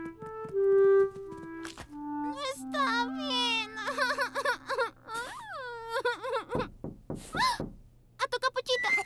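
A cartoon child wails and sobs in drawn-out, quavering cries that rise and fall over several seconds, loud and close, with short whimpering breaths near the end.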